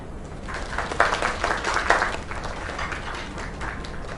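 An audience gives a round of applause after a performance, a sustained mass of clapping with louder swells near the start that then holds steady, heard from within the crowd and with no speech over it.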